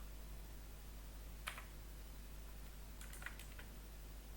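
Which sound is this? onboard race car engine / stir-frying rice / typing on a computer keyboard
typing on a computer keyboard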